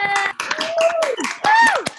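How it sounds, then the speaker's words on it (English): Group clapping from many unmuted participants on a Zoom call during a literary happy hour, a short burst of uneven, overlapping claps mixed with voices and tonal chatter. "I'm going to unmute everyone at the same time, and we're going to try to clap and see what happens"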